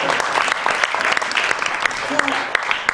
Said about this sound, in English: let's have a round of applause for Jon